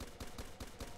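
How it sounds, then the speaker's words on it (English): Rapid bursts of distant gunfire in the survival game Minecraft Rust, a quick run of repeated shots with a steady rhythm, fairly faint and heard alone without voices. "I hear people shooting."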